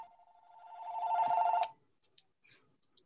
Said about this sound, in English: My phone went off right then.